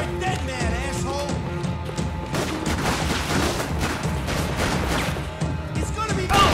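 Rapid bursts of gunfire and impacts crackle through a shootout in the video game Max Payne 3, dense and continuous over low background rumble.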